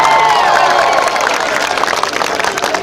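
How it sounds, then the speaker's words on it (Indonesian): A large crowd at an outdoor concert on a field in Sawahlunto roars, cheers and claps continuously, a dense, loud wash of voices and hands with no pauses. "Boleh dulu tepuk tangan semua."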